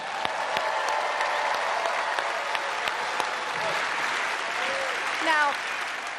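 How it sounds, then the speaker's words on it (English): A studio audience applauds on a magic competition show as a magician is welcomed to the stage, a broad sustained clapping with crowd noise and a few brief tonal sounds near the end. "there is someone else who deserves all your applause"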